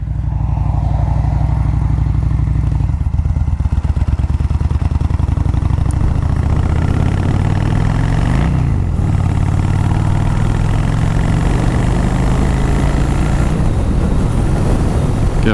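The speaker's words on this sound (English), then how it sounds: "I'm riding a 2005 Honda Shadow 600." A 2005 Honda Shadow 600 motorcycle on a state road, its engine droning steadily and loud up close, then rising in pitch as the bike shifts and picks up speed, with wind rush throughout.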